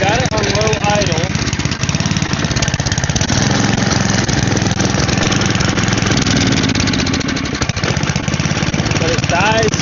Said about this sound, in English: Alright, I got it on low idle.